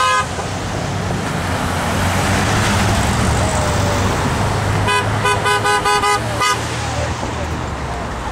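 Car horns honk in a rapid repeated burst at a drive-by rally on a busy main road, loud and nearby over steady traffic rumble from a long line of passing cars.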